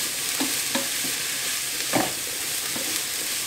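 Vegetables sautéing to brown in a pan for a vegetarian bourguignon, giving a steady close sizzle with a few scattered stirring clinks and scrapes, no talk.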